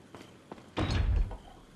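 A door opens in the Resident Evil 4 video game with a heavy thudding clunk after two faint light knocks, close and brief, with no talking.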